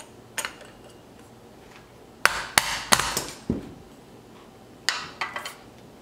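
A punch tool tapped against a pin in a Hog Saddle PIG0311-G field tripod leg gives sharp metallic taps, one alone, then a quick cluster of four or five, and a final group of three.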